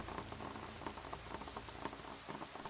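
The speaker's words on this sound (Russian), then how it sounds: "Входная дверь все еще открыта, что делает шум дождя еще громче." Rain drumming on a roof and window, a dense steady patter of drops heard faintly from indoors with no voices.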